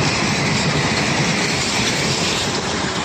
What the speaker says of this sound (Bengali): দেখতে পাচ্ছেন ট্রেন, রেলগাড়ি